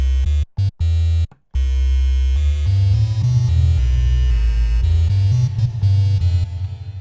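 Sustained synthesizer tones from a Roland SP-404MKII sampler with a washy reverb tail, starting with a few short stuttered bursts and gaps, then flowing into shifting held notes.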